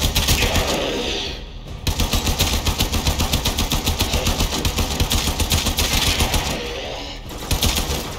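Rapid automatic fire from a primary weapon in the shooter game Warframe, loud steady bursts of rattling shots with two short pauses, close and alone without talk.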